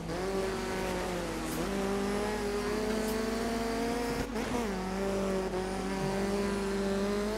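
Rally car engine in the racing video game Dirt 3, droning steadily at high revs with pitch dipping and rising through gear changes and corners, loud and continuous with no talk.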